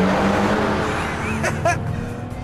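A BMW Z4 and an Audi TT race on a track, with a loud, close engine roar holding steady and brief tire squeals near the end.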